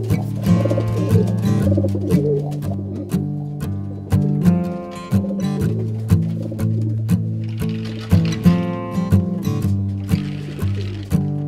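Pigeons coo repeatedly in the young birds' racing loft in Hamme, Belgium, with overlapping rolling calls pulsing in a steady rhythm, close and fairly loud throughout.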